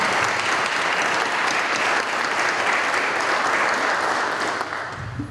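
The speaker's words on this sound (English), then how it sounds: "Let's give them a round of applause." A large crowd applauds at a sports awards ceremony, loud and continuous clapping from many people that holds steady before tapering off at the end.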